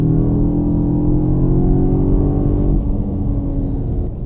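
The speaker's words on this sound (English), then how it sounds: "the best drive mode is Cupra, where it shows up that racetrack, because the engine sound starts coming into the cabin" Simulated engine sound piped into the cabin of a 2026 Cupra Terramar, a Tiguan-based mid-size SUV, in Cupra drive mode: a loud, steady low drone with a rich hum that eases slightly in pitch and level near the end.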